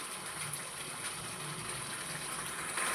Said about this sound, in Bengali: আমি এতে অল্প পরিমাণে জল অ্যাড করে দেবো